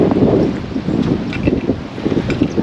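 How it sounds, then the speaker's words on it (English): Steady, loud wind buffeting outdoors beside low water on a fishing outing, with continuous rumbling gusts and microphone wind noise through the whole stretch and no voices. "it's kind of windy today"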